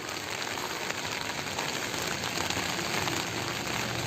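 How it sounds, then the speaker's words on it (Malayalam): Steady, dense heavy rain pours down near Leopuram church with an unbroken hiss, spread evenly throughout and with no talking. "ശക്തമായ മഴ"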